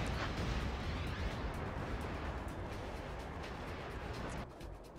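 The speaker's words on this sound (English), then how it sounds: "You can see all of the explosions." Explosions and artillery rumble in a strategy video game battle, a dense continuous barrage of booms and bursts filling the mix, loud throughout and easing slightly at the end.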